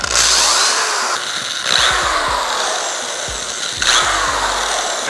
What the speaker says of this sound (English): Now we just gotta drill them out accurately.